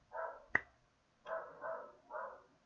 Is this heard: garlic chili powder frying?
no